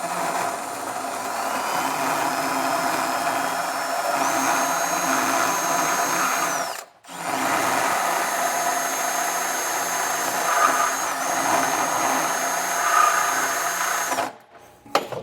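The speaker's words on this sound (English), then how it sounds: "I'm just going to use a burr bit and get that drilled out" Power drill spinning a burr bit to enlarge a hole in the frame of a 2023 GMC Terrain for a trailer hitch, a steady high whine held for several seconds, a brief pause, then another long run before stopping.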